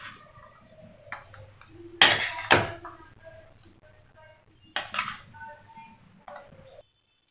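Cabbage and chana dal sabzi is scooped out of a pan onto a plate, with a few sharp spoon-on-metal clanks and scrapes between quieter moments and a faint steady hum beneath.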